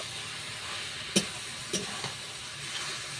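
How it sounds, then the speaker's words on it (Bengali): Fried lentil dumplings are stirred into a tamarind morala fish curry in a pan, with a soft, low sizzle throughout and a few sharp spoon knocks against the pan. "এরপর আমি বড়িটা যে ভেজে রেখেছিলাম, বড়িটা এর মধ্যে দিয়ে দিব। তারপরে একটু নাড়িয়ে নিব।"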